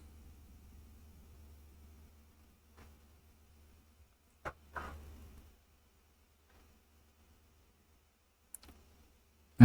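A few sparse computer mouse clicks, faint and spaced seconds apart, sound against a quiet low hum in a room with no talking.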